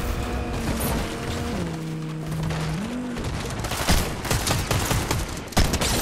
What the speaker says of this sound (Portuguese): o meu tiro pegou na planta de uma maneira tão mentirosa. O meu tiro de pump.